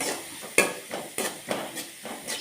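Green chilli, ginger and salt sautéed in a pan for chicken cutlets: soft, quiet sizzling with a few spoon scrapes and light taps spread across the moment, close by and without talk.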